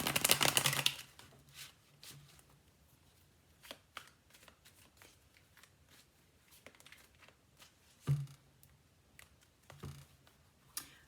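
Rider-Waite tarot cards are shuffled in a loud riffle up front, then quieter irregular taps and flicks of cards being handled, with another firmer shuffle burst later on.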